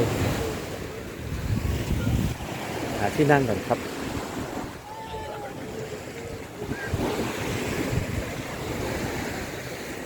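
Sea waves breaking steadily on Bangsaen beach in Chonburi, Thailand, a continuous broad wash of surf mixed with wind buffeting the microphone, while someone speaks briefly.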